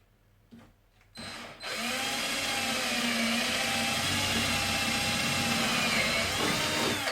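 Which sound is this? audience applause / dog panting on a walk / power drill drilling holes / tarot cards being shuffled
power drill drilling holes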